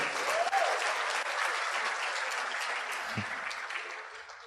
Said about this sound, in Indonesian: tepuk tangan buat istri saya ya